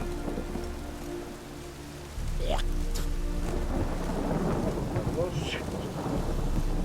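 A thunderstorm with steady heavy rain in The Witcher 3 video game, rain hissing throughout while a thunder rumble swells in partway and rolls on under the downpour.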